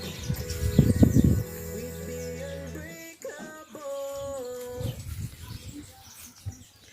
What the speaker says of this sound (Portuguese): Muito pássaro, olha o barulho.